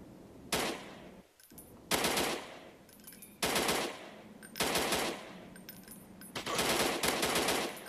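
Loud bursts of automatic gunfire in the Android shooter game Desert Wars, five rapid machine-gun volleys separated by short pauses, heard alone without any voice.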